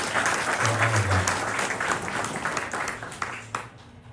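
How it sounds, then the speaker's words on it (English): Audience applause at an Ohana luau-themed charity gathering by a lake, a dense, sustained round of clapping from a sizeable crowd that keeps going for several seconds before thinning out at the end. "So give yourself another round of applause for all of that"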